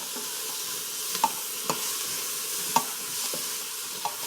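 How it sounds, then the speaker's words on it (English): Tomatoes, bell peppers, carrots and a whole garlic clove sauté in a pot, giving a steady soft sizzle broken by a few sharp spoon scrapes and taps, close and moderately quiet. "Mix them up really well and let them saute for about 3 to 5 minutes."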